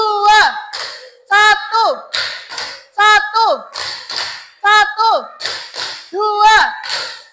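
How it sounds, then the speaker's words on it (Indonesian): Children in a classroom clap their hands in a counting game, with short bursts of claps repeating in a steady rhythm, mixed with loud group voices calling out. "kalian tepuk 2 kali"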